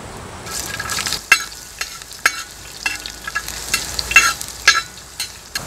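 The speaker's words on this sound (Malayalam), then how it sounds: "അപ്പോൾ നമ്മൾ ഒരല്പം കറിവേപ്പില ഇട്ട് കൊടുക്കുകയാണ്." Curry leaves and chopped ginger sizzling in hot oil in a pan for a village-style quail curry, with a steady fry and sharp crackles and pops at irregular moments, close by, with no talking.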